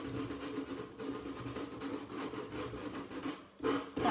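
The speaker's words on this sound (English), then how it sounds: "if you take a piece of sandpaper and just here and there sand a bit" Sandpaper rubs over painted furniture in short, close, rasping strokes with a continuous gritty texture and no voices.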